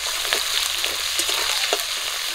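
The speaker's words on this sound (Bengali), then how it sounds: "গরম তেলে দিয়ে দিচ্ছি পেঁয়াজ কুচি," Chopped onion and slit green chillies fry in hot oil with a close, constant sizzle and a few soft stirring knocks, no voices present.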